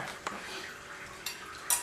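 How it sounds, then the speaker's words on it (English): A metal knife scraping sticky hokey pokey off another knife, giving a few light, close clinks and scrapes against a quiet background. "you might need to get another knife to get the Hokey Pokey off the earlier knife"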